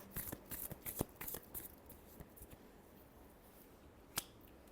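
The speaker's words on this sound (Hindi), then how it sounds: "Last shuffle." Tarot cards are shuffled in a quick burst of crisp riffling snaps that thin out to a few scattered soft flicks and a final sharp tap, quiet and close with no talk.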